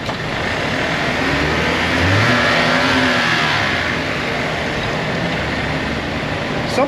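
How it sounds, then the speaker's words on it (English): A Cadillac engine revving in a repair shop, a steady, fairly loud mechanical drone that swells briefly near the middle, with a faint voice under it. "That engine here looks like it's going pretty crazy."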